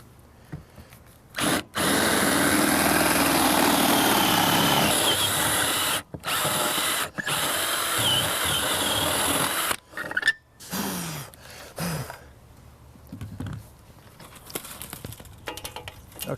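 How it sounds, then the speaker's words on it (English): A power drill bores a hole for awning wiring on an RV, stepping up toward a 1/2 inch bit, running loud and steady in long bursts with brief pauses, then quieter intermittent whirring and handling noise. "I don't want to try to go through with a huge 1/2 inch bit right out of the gate."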